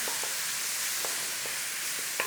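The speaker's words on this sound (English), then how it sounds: "Nice little sauté on there, look." Onions sauté in a pan for ham and vegetable soup with a soft, even sizzle and a few faint ticks, heard alone.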